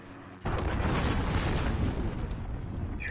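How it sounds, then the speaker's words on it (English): A cruise missile strike in the video game Modern Warfare erupts after a quiet moment, a sudden loud blast that rolls into a long, dense rumble before slowly thinning out, with no voices over it. "Enemy cruise missile."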